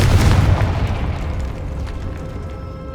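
A Confringo blasting spell goes off in Hogwarts Legacy with a loud, deep boom at the start, its low rumble slowly fading and trailing away over the next few seconds.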